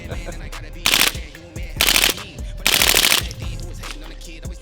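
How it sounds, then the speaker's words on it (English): A suppressed full-auto MP5 SD submachine gun fires three short bursts of rapid muffled cracks, close and loud, separated by brief pauses, with faint talk and handling noises between them. "It's a silenced full auto MP5."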